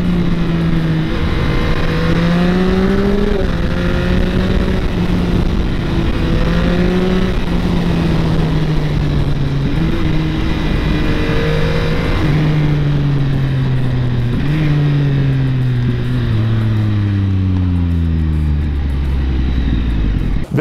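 A 2023 Yamaha XSR 900 motorcycle engine revs hard and climbs through several gears, pitch rising then dropping with each shift, loud and close for the whole stretch.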